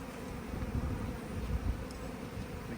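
Steady, dense buzzing of packaged honey bees during installation into a hive, a close, continuous drone with no voices.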